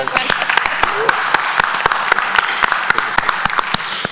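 At a county board of commissioners meeting, a small group claps sharply and unevenly for a deputy director, distinct close claps ringing out over a low hum of voices.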